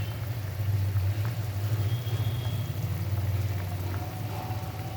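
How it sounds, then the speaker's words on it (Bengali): A papaya and lentil curry bubbling in a pot on the stove, with a steady low simmering rumble and soft popping of bubbles, close and continuous. "আপনারা এটা ফুটতে ফুটতে এটা সেদ্ধ হয়ে যাবে একদম।"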